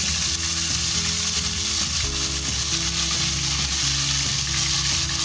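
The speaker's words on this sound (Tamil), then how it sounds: "பச்சை மிளகாய் கொஞ்சம் ஃப்ரை ஆகட்டும்." Green chilies fry in hot oil in a pan with a dense, steady sizzle, close and uninterrupted, with a low tonal hum underneath and no talking.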